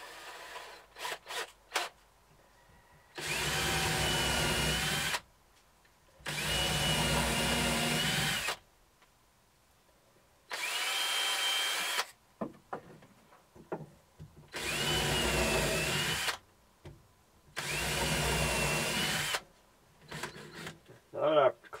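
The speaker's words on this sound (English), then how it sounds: "Now we need to pre-drill our cleats." A power drill pre-drills wooden cleats in five separate bursts of about two seconds each, close and loud, with quiet pauses and small clicks between them.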